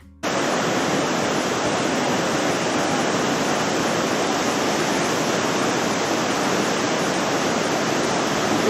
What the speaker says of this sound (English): It's unbelievable how such a small looking river appears to have carved this deep gorge.